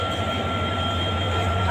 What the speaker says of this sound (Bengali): ওই যে তো ইঞ্জিন এই ইঞ্জিনটা বগিতে লাগাবে এবং টান দিবে